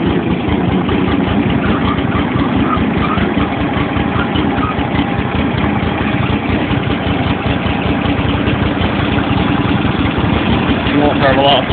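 An old engine idles slowly and roughly after a cold start with the choke partly pulled, a steady loud low chugging pulse running unbroken throughout, with faint voices under it.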